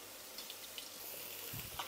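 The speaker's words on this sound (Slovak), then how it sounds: "Oplachneme vodou." Spring onions are rinsed under a running kitchen tap, a steady soft hiss of water with faint splashes, close and alone without talk.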